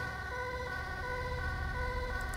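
An ambulance siren wails in a modded Grand Theft Auto V, a steady electronic tone with layered harmonics heard continuously over low vehicle rumble, fairly quiet and unbroken.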